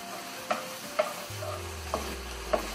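Salt cod is stirred in a pan with olives, tomato and bell pepper, four distinct utensil knocks against the pan over a soft sizzle and a low steady hum, close and quiet, no one talking.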